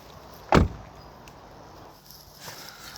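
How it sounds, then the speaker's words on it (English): The rear door of a Subaru Legacy 3-litre Spec B shuts with a single sharp, solid thud, close and loud, followed by a quiet interior. "Listen to this for a door shut sound."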